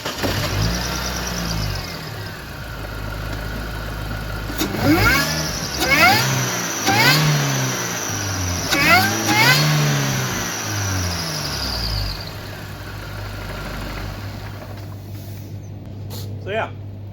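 A 2005 Mini Cooper S engine cranks and starts, then idles with several sharp revs rising and falling before settling back, loud and close.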